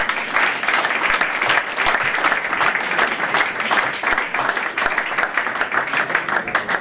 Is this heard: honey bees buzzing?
no